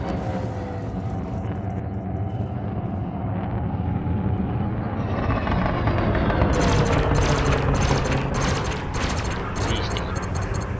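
Spaceship weapons firing at a bounty target in Elite: Dangerous, rapid repeating bursts of gunfire rising over a constant droning engine hum, growing denser and more insistent in the second half.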